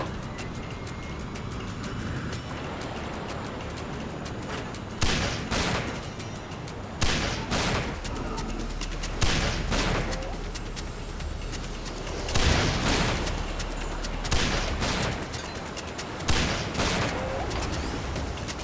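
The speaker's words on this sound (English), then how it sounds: "Cluster launcher. It's basically a delayed shotgun, which I appreciate." A cluster launcher weapon fired in the video game Sand Land, a series of loud booming bursts at roughly two-second intervals over a continuous rumbling engine and battle din.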